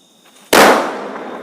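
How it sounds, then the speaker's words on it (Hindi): Diwali firecracker bursting on the ground with a single sharp, loud bang that rings out and fades over about a second. "तो ये देखिए, ये आसानी से जो है ये फट रहा है।"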